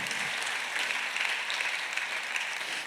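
A church congregation at a Sunday worship service applauds in a steady, dense wash of clapping that holds evenly for about three seconds without a break.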